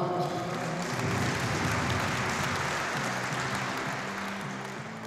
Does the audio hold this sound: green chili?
no